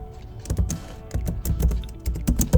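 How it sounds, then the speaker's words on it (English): Quick, uneven keystrokes on a computer keyboard while filling out an online college application form, a close, busy patter of clicks with brief pauses and no talking. "while typing out the city that you attended in"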